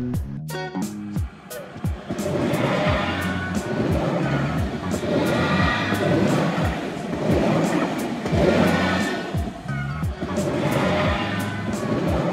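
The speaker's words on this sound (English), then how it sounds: "Tram." A tram rolling along rails, with steady rumbling and rhythmic clatter of wheels, loud and continuous with swells of noise throughout.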